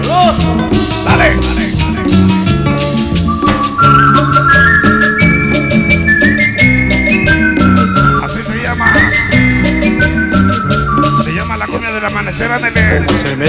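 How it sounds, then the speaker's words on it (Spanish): Bright melodic whistling carries a tune over a steady cumbia band of guitar, bass and percussion, sustained and loud throughout. "Qué bonito silba"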